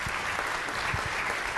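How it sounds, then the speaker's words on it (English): A short burst of steady applause from a seated audience at a city council meeting, honoring elected officials, dense and even throughout. "Please a round of applause."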